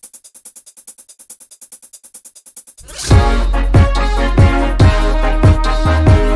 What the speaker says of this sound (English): Then we're adding this hi-hat loop.